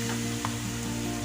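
Ginger garlic paste sautés in a pan, giving a soft, steady sizzle with no talk.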